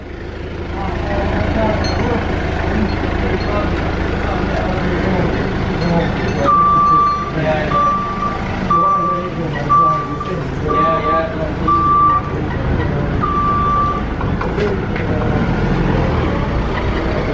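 Forklift moving through a workshop during a 1952 Jaguar XK120 fixed head coupe restoration, its reversing beeps sounding in a regular string of about eight tones over steady engine and background noise.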